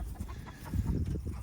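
Black sex link chickens clucking softly in a brief, low murmur of short calls, close by and faint, with no talking.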